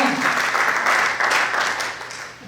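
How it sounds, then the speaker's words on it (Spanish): Enthusiastic applause from a large church congregation, strong at first and gradually fading toward the end. "Dale un fuerte aplauso al Señor."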